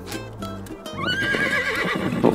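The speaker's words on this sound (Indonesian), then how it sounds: "Ada kuda guys." A horse whinnies in the SpongeBob SquarePants: The Cosmic Shake video game: one loud, close neigh that wavers and trails off over about two seconds, with no talking.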